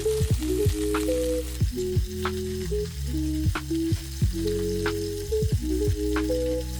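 Fish fillets pan-searing in a hot pan give a continuous sizzle, sitting under a prominent melodic music track punctuated by sharp rhythmic hits.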